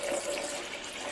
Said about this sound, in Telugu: అలాగే 200 ml వాటర్ వేసుకుందాం